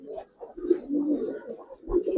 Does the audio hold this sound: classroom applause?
no